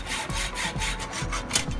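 Right-angled aluminium plate being cut by hand, a steady back-and-forth sawing rasp with regular strokes, close and fairly loud, with no talk.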